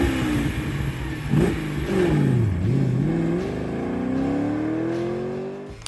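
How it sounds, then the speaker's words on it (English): A Lamborghini Jalpa's naturally aspirated V8 revs up and down close by, its pitch dipping then climbing steadily into a sustained, raspy high-rev roar before cutting off. "A gritty rumble at idle that grew into a raw, raspy roar at high revs"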